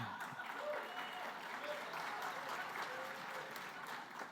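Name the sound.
audience applause at awards ceremony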